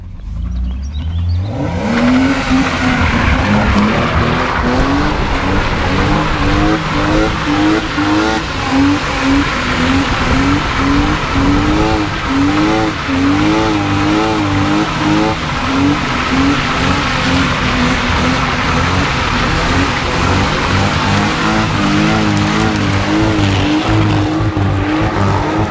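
A BMW E36 fitted with an M50 engine drives continuously, its engine note loud and close with steady revving and gear changes, running throughout with no talk.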